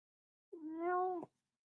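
A single clear cat meow, close and fairly loud, rising slightly and then ending abruptly, with no talk around it.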